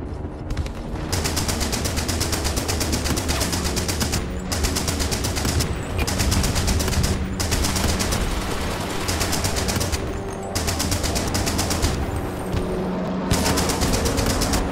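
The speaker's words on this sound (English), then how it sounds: "Oh, these are incendiary rounds?" Incendiary rounds from a Flak 88 in a wartime video game, heard as loud, rapid bursts of firing with brief gaps between volleys, repeating steadily for several seconds with no speech.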